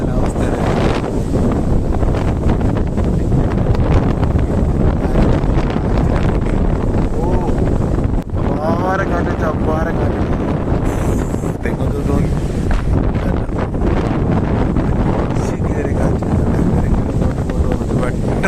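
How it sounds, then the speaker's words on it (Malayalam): Strong sea wind roars steadily over the microphone aboard a small traditional fishing boat, a loud continuous rushing blast with faint water sounds beneath it and no pause throughout. "കാറ്റും മഴയൊക്കെ വരുന്നുണ്ട് നല്ല നല്ല കാറ്റ്"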